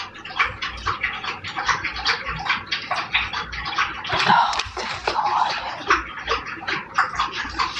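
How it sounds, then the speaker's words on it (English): Rapid, steady wet lapping of a dog drinking water close by, with a brief exclaimed remark from a person partway through. "my dog's gotta be in here slopping up a bunch of dang water"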